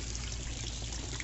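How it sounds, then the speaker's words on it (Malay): Water from a waterfall in Taman Botani park flows and splashes in a continuous, steady rush, moderately loud and close, with no talking over it. "air terjun tu"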